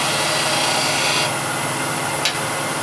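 A wooden piece has its edge chamfered by hand in a beginner woodworking project, giving a steady, close rasping scrape that lightens partway through and ends with a short sharp scratch.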